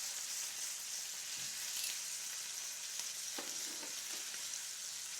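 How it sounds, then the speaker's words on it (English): Chicken breast pan-seared after flipping, a soft steady sizzle in the pan with a few small pops and clicks, fairly quiet and without talk. "our chicken's been going for about 3 minutes, so I'm going to go ahead and give it a flip"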